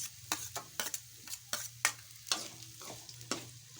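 Onions going into hot oil with potatoes in a pan for potato susla, giving a steady sizzle with repeated sharp scraping and stirring strokes at close range and no talk.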